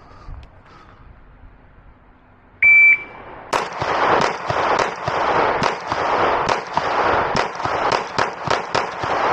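A shot-timer beep starts a string of Glock 34 pistol gunshots fired from low ready at a range, a rapid sequence of a dozen or so loud, sharp reports closely spaced.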